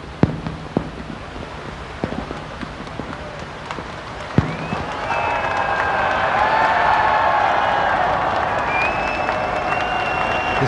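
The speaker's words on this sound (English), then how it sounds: "a cheer for His Royal Highness having delivered his message from Her Majesty the Queen" Large outdoor crowd at the Hong Kong handover ceremony cheering and applauding in the rain, starting with scattered claps and swelling into a sustained roar of cheers that holds to the end.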